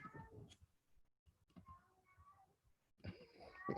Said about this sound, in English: That is a cat I was hearing.